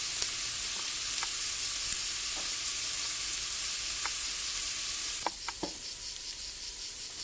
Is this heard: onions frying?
yes